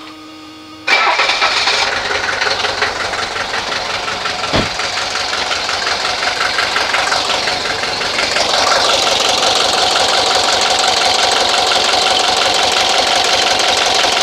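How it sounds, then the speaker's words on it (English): Mercedes 240D diesel from 1983 cranking over with its injector lines cracked open for bleeding: a steady, rhythmic starter-driven chug that starts abruptly and continues loud and close, growing slightly stronger near the end. "I'm going to go ahead and crank it, and there should be some fuel coming out of here"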